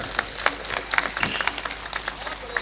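Audience applause at a Hindi kavi sammelan poetry recital in Hathras, a crowd clapping steadily with scattered sharp claps, moderately loud and sustained throughout.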